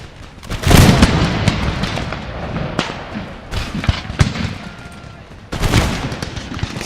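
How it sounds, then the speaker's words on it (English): Musket volleys and booming battle fire from the video game Empire Total War, with several loud crackling bursts and thuds at irregular intervals over a rumbling background. "Tartars in the centre in the background are just getting annihilated by musket fire"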